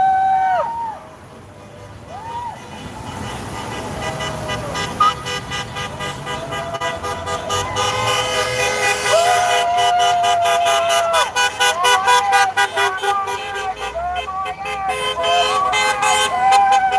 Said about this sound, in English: There's a Trump car. With their free street drive-by